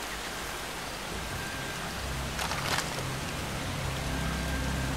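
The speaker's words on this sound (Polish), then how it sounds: "To mi się wydaje, czy deszcz pada?" Rain falling in the video game Far Cry 2, a steady hiss of rainfall over a low rumbling background, with a brief brighter burst of noise partway through and no talking.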